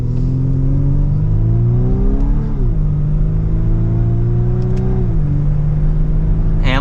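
A 2024 Volkswagen Atlas Cross Sport SEL Premium R-Line accelerates in 2nd gear in sport mode, its engine note rising steadily then dipping at shifts around the middle and near the end, a loud continuous rumble heard from inside the cabin.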